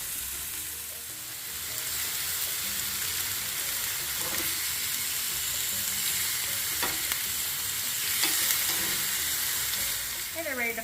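Chicken pieces sear in a hot pan with a steady, bright sizzle and crackle that holds close and even throughout, with occasional faint clinks and no talking.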